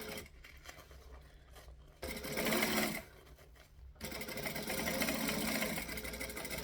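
Domestic sewing machine stitching forward and then back stitching on a garment, two close bursts of steady motor whirr with brief quiet pauses between, no talk over it.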